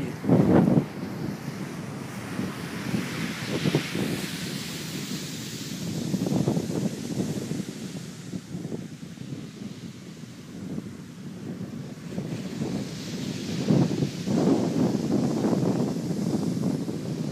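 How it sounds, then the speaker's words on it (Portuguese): Strong wind on a beach at Barra da Tijuca buffets the microphone in loud rumbling gusts, with surf washing faintly behind and no talking. "Está ventando bastante agora."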